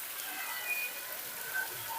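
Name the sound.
heavy rain falling on a street in Lahore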